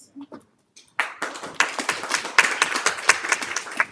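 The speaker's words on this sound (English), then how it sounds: "why don't we put a hand of applause for you?" An audience at a Geneva panel discussion breaks into applause after a brief pause, with moderate clapping from a sizable crowd that builds and holds steady for a few seconds.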